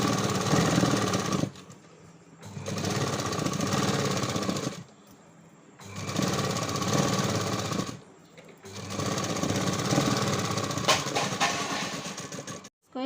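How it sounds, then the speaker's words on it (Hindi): A sewing machine stitches a blouse seam in four steady runs of mechanical whirring, each a few seconds long and separated by brief pauses, loud and close with no one talking. "अब इसको इस तरह से पलटकर इसके ऊपर से सिलाई लगाएंगे।"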